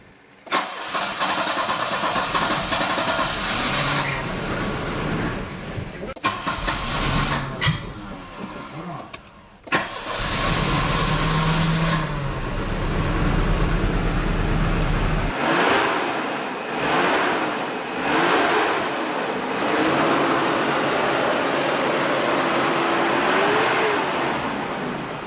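An 80s turbo car cranks over and catches, then the engine idles and revs in rising and falling pulls inside a shop, loud and close, with no talking.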